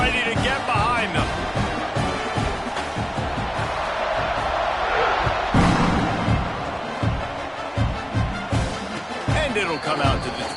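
American football stadium crowd at kickoff, a loud continuous roar of cheering and shouting with repeated sharp claps and thumps throughout, rising slightly midway.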